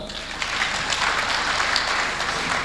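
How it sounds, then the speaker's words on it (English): An audience at a Benue investors forum gives a steady round of applause, a continuous patter of many hands at moderate loudness, with no talking over it. "Please, your round of applause for them."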